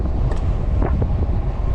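Steady, loud wind buffeting the microphone while riding an electric vehicle straight into a headwind, a continuous low roar with no pauses.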